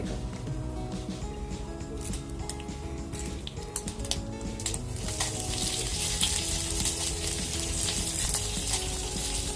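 Mustard seeds and cumin fry in hot oil for a sambar tempering, giving a steady close sizzle with scattered crackles and pops that grows busier and brighter toward the end, with no voices.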